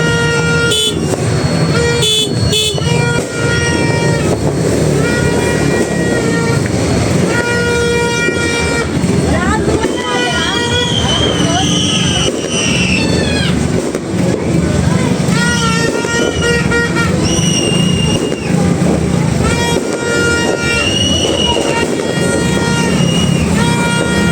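Car horns honk repeatedly at midnight on New Year amid a loud, busy street din, with long blasts and short toots overlapping under continuous crowd and traffic noise.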